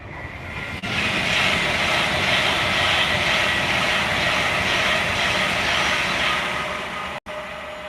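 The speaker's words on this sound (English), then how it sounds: "Here's the Pendolino." A Pendolino train rushes past, a loud, steady broadband roar that swells in abruptly, holds for several seconds and cuts off sharply near the end.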